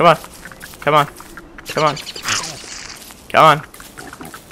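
Pig oinking in the video game Don't Starve, several short grunting calls spaced across a few seconds, fairly close and loud, with a person speaking briefly between them.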